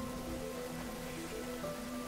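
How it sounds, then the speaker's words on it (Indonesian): Steady rain falling outside during a film scene, a soft continuous hiss of drops on surfaces with faint tonal music lines running underneath. "ternyata di luar sedang turun hujan"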